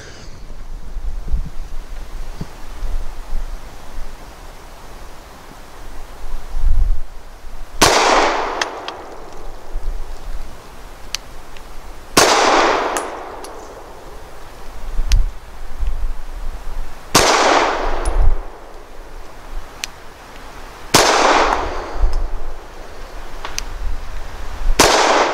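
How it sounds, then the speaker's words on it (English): Loud single gunshots from a Grand Power P1D pistol firing 115 grain rounds outdoors, five sharp cracks several seconds apart over steady wind noise. "So my impressions of the Grand Power P1D, this thing is fun to shoot."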